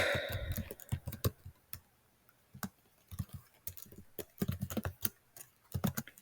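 Fingers tap out code on a computer keyboard in quick irregular bursts of crisp clicks with short pauses between them, heard close up and fairly quiet, with no talking.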